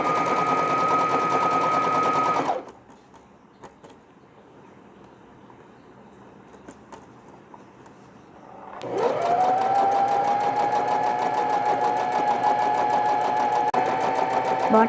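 A sewing machine runs fast and loud as it joins the large and small pieces of a newborn swaddle. It stops for several seconds, then starts again and keeps stitching at a steady, even buzz.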